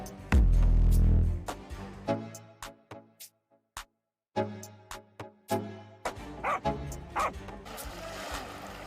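A guard dog protecting a home at night barks again and again in short bursts, mixed with yips and whimpers, with brief silences between the outbursts.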